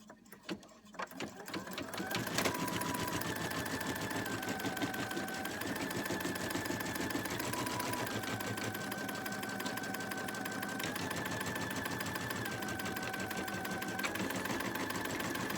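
An embroidery machine stitches a placement outline on fabric, starting after a couple of seconds and then running as a steady rapid mechanical whir and clatter, close and unbroken.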